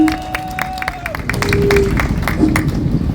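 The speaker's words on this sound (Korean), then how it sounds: "여러분 큰 박수로 환영해 주시기 바랍니다" A crowd at an outdoor political protest rally claps and cheers to welcome a speaker to the stage, loud mixed clapping swelling and continuing as steady tones ring over it.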